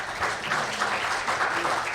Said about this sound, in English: please offer your applause and thanks to our wonderful panelists